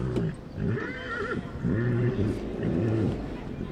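Horses neigh at a busy outdoor horse fair in Baia-Suceava, several loud whinnies rising and falling in succession close by, with crowd murmur in the background.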